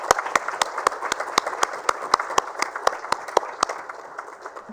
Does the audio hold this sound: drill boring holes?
no